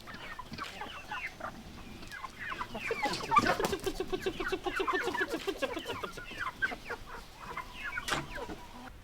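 Several chickens cluck and chatter nearby in a busy, overlapping stream of short calls, with a few louder squawks.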